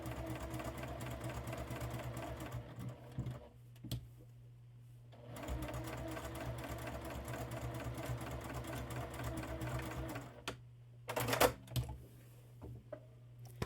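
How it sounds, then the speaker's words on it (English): Sewing machine running a loose, freeform line of top stitching across a scrap-fabric bookmark, in several steady bursts with short pauses between them, close and moderately loud, with a brief clatter of handling near the end. "Nothing exact, just some crazy little stitching kind of thing going on."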